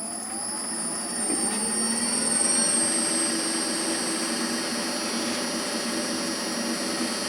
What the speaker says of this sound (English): Speed the lathe back up.